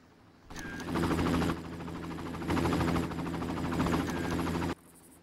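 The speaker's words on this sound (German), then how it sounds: "Wo ist der verkackte Helikopter?" A helicopter in the game Far Cry drones loudly for several seconds, a dense throbbing rotor roar that starts abruptly, swells in waves, and cuts off sharply, with no talking.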